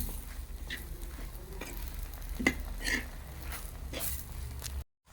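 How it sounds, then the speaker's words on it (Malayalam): A spoon scraping and stirring thoran in a pan with turmeric, chili and coriander powder, giving soft rhythmic scrapes over a faint sizzle, with a few sharper taps against the pan. "നമ്മുടെ തോരനിലേക്ക് മഞ്ഞൾപ്പൊടി, മുളക് പൊടി, മല്ലിപ്പൊടിയും കൂടി ഇട്ട് മിക്സ് ചെയ്യുവാണ്"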